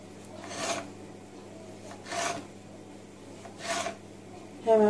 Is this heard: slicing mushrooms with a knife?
yes